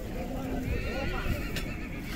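A horse whinnies amid the bustle of the Sokuluk horse market in Chüy, with people talking and a steady crowd murmur around it, the call rising and wavering in the middle of the busy scene.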